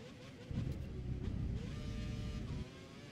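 Formula 1 car engine from the F1 2013 video game on the Korean Grand Prix circuit, a brief, loud, buzzing whine that swells after a quiet start, holds steady, then drops away.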